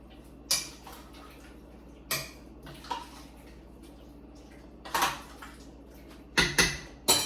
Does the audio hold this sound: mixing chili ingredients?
yes